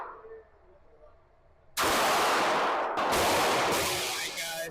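Gunfire at an outdoor shooting range: after a quiet stretch, loud nearby shots boom out, with a second blast following about a second later and reverberating, over a faint background.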